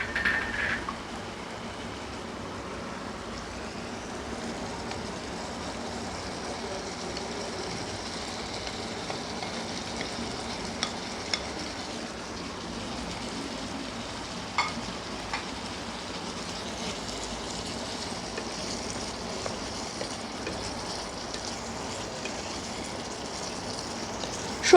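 Fried mixed vegetables tipped into bubbling spiced masala in a pan give off a continuous, even frying hiss that holds steady for the whole stretch with only a few small pops.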